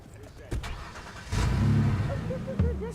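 A car engine starting in the video game Watch Dogs, an ignition crank followed by a rising mid-pitched engine hum that settles into a steady idle, fairly loud and close.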